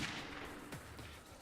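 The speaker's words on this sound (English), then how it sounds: "Bro, did I just headshot that dude?" A single gunshot from a shooting video game, a sharp crack near the middle with a brief decay over faint background sound.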